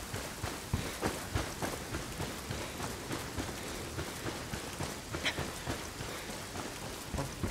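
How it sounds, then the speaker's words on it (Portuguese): Steady heavy rain pours throughout in Ghost Recon Wildlands, a broad continuous hiss with scattered sharper drop impacts and low rumbling swells that suggest distant thunder, with no talking over it. "Barulho de trovão"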